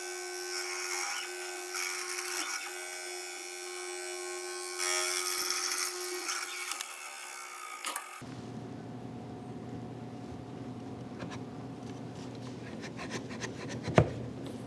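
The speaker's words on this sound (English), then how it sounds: "we're going to widen the mortise ever so slightly" Widening a tight wooden mortise for a front-leg tenon on an indoor bench: a steady power-tool whine with rubbing and scraping runs about eight seconds, then quieter scraping and handling, and a sharp knock near the end.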